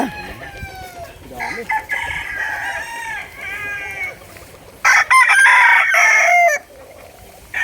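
Several fighting roosters crow in overlapping calls on a small backyard farm in Ternate, loud and close, with clucking between them and a burst of louder crowing near the end.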